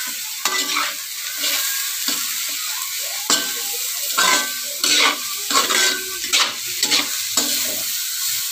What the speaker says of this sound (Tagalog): Haluin na natin guys, ang pansit gisado.